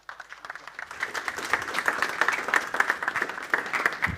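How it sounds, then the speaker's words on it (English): Audience applause welcoming a speaker to a prompt engineering session, clapping that builds quickly from scattered claps into a dense, steady patter from a moderate-sized crowd. "A round of applause for Ghosy, please."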